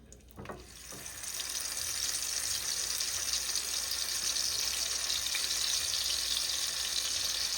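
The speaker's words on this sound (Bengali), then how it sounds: "এটা এই যে মাছ ভাজার তেলে দিয়ে" A paste of mustard, poppy seed and yogurt hits hot oil left from frying fish, setting off a short burst of spitting followed by a strong, steady sizzle that carries on to the end, with no talking.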